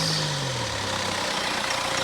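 A steady, low engine idle of a Kia Carnival minivan with an engine knocking fault, rumbling continuously at close range, with no voices.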